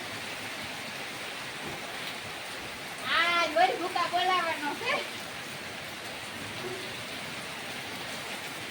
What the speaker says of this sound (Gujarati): અત્યારે ફૂલ વરસાદ પડે